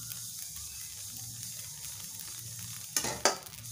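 Amaranth grains popping in a hot pan while a ladle stirs them through a cloth, with a faint steady crackle and two sharp scraping clatters near the end.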